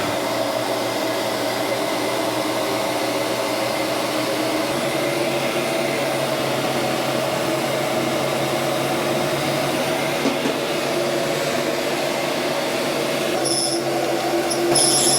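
A heat gun runs with a steady, close, loud whirring blow of air while warming a dented metal panel, holding an even drone throughout with a brief higher whine near the end.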